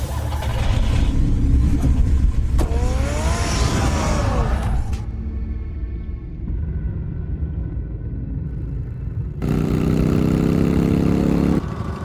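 The Batmobile's engine in the Telltale Batman game gives a deep, continuous rumble that shifts in tone and briefly swells louder near the end.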